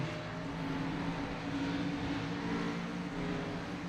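A race car's engine roars steadily at full throttle on a restart in an online racing video game, a dense, constant drone with no talk over it.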